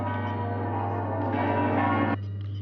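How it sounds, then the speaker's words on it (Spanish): Church bells of the Venice campanile ringing the Angelus at midday, a steady sustained peal with rich overlapping tones and a low hum beneath, continuing throughout. "Las campanas del campanile de Venecia tocaban al ángelus."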